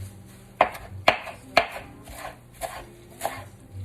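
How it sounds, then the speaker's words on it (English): A knife rough-chops washed flat-leaf Italian parsley on a board, with three sharp, close thuds in quick succession followed by a few softer strikes. "I'm going to rough chop some parsley"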